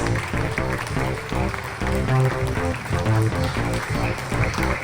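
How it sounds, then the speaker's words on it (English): Audience clapping at a school graduation ceremony, steady applause running throughout under a layer of music or amplified sound. "Please make a big round of applause for ma'am."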